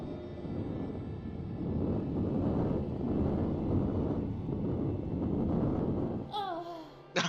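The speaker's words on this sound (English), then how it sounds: "I'll wait till the next wind gust." Wind gusts sweep through the hostile world of the video game NaissancE, a steady, loud rushing roar that swells and eases for several seconds before cutting off into quieter, higher tones.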